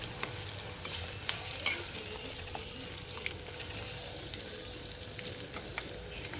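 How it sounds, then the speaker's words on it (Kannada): Masala frying in hot oil for a sambar gives a continuous soft sizzle with scattered crackles and a few light utensil taps, fairly faint and steady throughout. "ಇವಾಗ ಮಸಾಲೆನ ನಾವು ಚೆನ್ನಾಗಿ ಆಯಿಲಲ್ಲಿ ಫ್ರೈ ಮಾಡ್ಕೊತೀವಿ"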